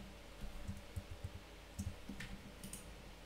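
Computer mouse clicking while working in Adobe XD, several light, close, irregular clicks over a steady low hum, with no talking.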